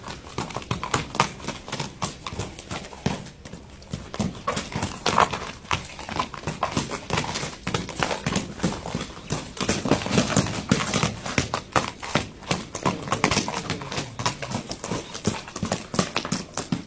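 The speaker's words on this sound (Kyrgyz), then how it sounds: "Аттын баскан турганын байкап турсаңыздар" A horse walking back and forth, its hooves thudding in a steady, close clip-clop rhythm that continues throughout with no talking.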